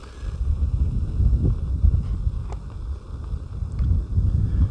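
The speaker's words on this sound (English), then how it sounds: "And it is windy out here," Steady wind buffets the microphone outdoors, a low rumbling roar that swells and dips throughout.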